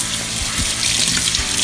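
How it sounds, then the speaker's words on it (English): Tap water runs steadily over Great Northern beans being rinsed in a small strainer, a close, continuous splashing flow with faint clatters of beans. "rinse to make sure I get all the beans."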